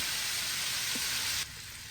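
Pork chops cook in a pan, giving a steady broadband sizzle that holds evenly, then drops to a quieter simmer partway through, with no voices.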